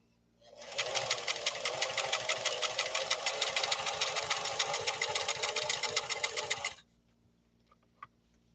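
An Italian-made Singer Model 362 sewing machine runs a zigzag stitch, giving a steady, rapid mechanical chatter close up for about six seconds before it stops abruptly.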